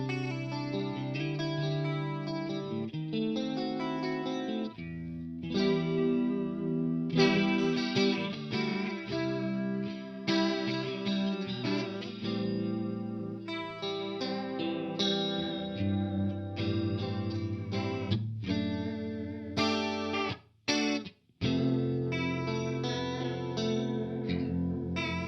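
Electric guitar played through a Walrus Audio Julianna stereo chorus pedal, lush warbling chorded passages with echo tails, steady for about twenty-five seconds with one brief drop near the end.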